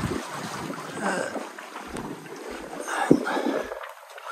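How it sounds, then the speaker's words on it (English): A sailboat under full sail moves through about 10 knots of light wind, with a soft, steady wash of water and wind rustle, a brief knock near the end, and no talk. "We are sailing, which is nice."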